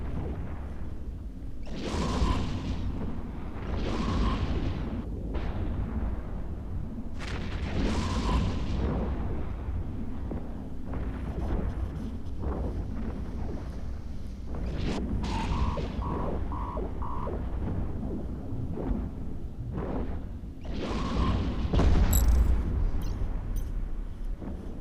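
Repeated missile explosions from a Prophecy battlecruiser firing large missiles during a low-security space PvP fight in EVE Echoes, booming bursts arriving every few seconds over a steady low rumble.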